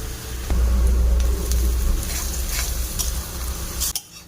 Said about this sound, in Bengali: আবার রসুন কুচি দিয়ে আরও কিছুক্ষণ ভেজে নেব।